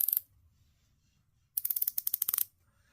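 Coin-edge bezel on a Watchdives WD1969 Pro dive watch being turned, giving a quick burst of crisp, close ratcheting clicks in a rapid even run after one brief click at the start.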